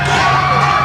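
A large crowd at a T20 cricket match in Glasgow roars and whoops with sustained cheering after a six, loud and continuous for the whole moment.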